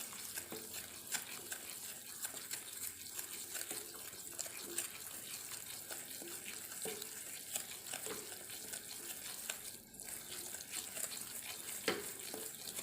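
Flour batter for kummayam being stirred steadily in a pan, a soft continuous scraping and sloshing with faint sizzling, close and fairly quiet throughout with no talk.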